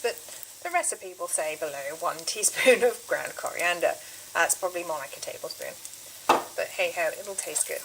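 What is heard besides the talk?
onions and ground coriander sizzling in pan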